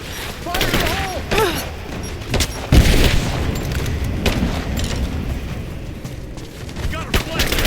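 A grenade blast in Rise of the Tomb Raider: a deep boom about three seconds in, set among scattered gunfire and mechanical clatter, with shouted combat voices over the top.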